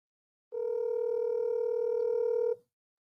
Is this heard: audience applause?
no